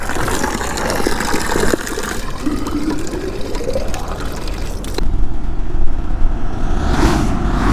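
Mountain waterfall water filling a container on a roadside in the Himalayan hills, a steady rushing splash and gurgle close by with broad noise, rising louder midway as the stream hits the vessel.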